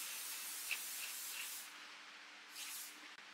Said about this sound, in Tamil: இப்போ நான் வந்து என்ன பண்ண போறேன்னா ஹேர் ஸ்ப்ரே அடிக்க போறேன்